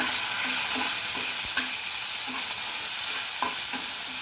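Chickpeas (chole) frying in a pan with a sprinkle of cumin powder, stirred with steady scrapes and a continuous soft sizzle, close and moderately loud with no voices.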